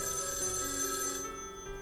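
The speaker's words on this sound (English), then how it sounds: "We'll have a phone ring the whole time." A telephone rings continuously in the video game Death Mark 2, a steady bright electronic bell tone that carries on without pause, fairly quiet and heard alone.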